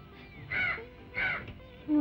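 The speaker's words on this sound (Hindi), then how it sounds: "तू जानता है कौवा क्यों बोल रहा है?" A crow caws three times, harsh and evenly spaced, fairly close and loud against a quiet background.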